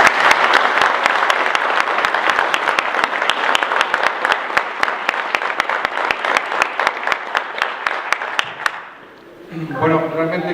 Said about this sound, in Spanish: les pido a todos nuevamente un fuerte aplauso